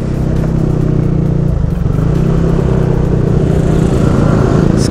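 Bored-up Yamaha NMAX scooter with an aftermarket racing exhaust fitted with baffles, riding on a test run, its engine giving a steady, loud, deep drone close by without a break.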